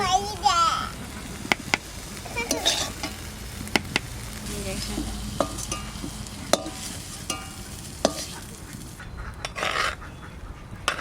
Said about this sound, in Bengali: না নে আমার শাক ভাজা হয়ে গেছে তুলে